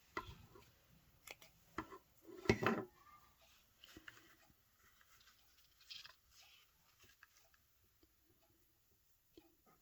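Scissors trim material for a handmade no-sew journal, giving quiet, scattered snips and paper rustles close by, with one louder cluster of cuts, all faint and sparse against near silence.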